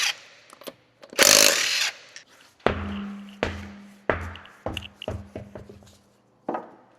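A power impact tool zaps off the 19mm wheel nuts on a 2007-2016 Honda CR-V, with one long buzzing burst followed by several short rattling hits and clanks, close and loud in a quiet garage.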